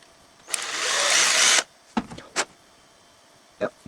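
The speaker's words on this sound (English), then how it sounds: "you just try to drill out the end mount like this" An electric drill bores out the end mount of a model car headlight in one steady burst of about a second, followed by several short, sharp scraping or handling noises close by.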